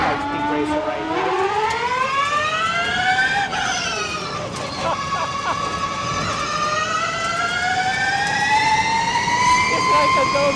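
Pikes Peak race car engine in the video game Ford Racing Ultimate, a loud rising whine that climbs through the gears, drops at a shift and builds again, sustained and close.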